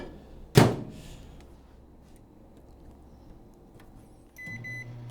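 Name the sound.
microwave oven door being closed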